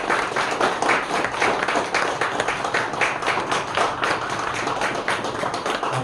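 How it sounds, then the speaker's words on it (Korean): A church congregation at a Sejin Church Sunday service claps together, dense, steady applause from many hands sustained for several seconds without voices. "하나님께 영광의 감사의 박수 올려드리겠습니다"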